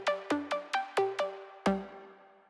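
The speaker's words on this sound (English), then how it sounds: "this sound called Dark Space Pluck" Dark Space Pluck, a Logic Pro synth patch, plays seven bright plucked notes in a quick, slightly uneven rhythm, each with a sharp attack and a short decay, the last ringing out longer.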